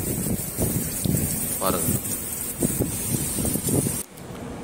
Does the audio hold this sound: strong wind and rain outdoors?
yes